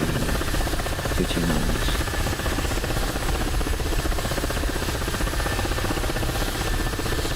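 An Apache attack helicopter in the DCS flight simulator, a loud, steady rotor-and-turbine drone that fills the whole stretch without letting up.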